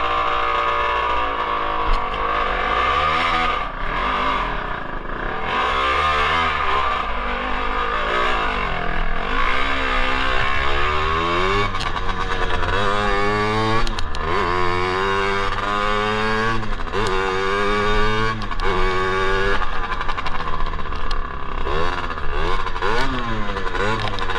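A Tao Tao 110 mini quad fitted with a KX 60 two-stroke engine is ridden close by, its loud, buzzing exhaust rising and falling in repeated revving surges as it accelerates and shifts throughout.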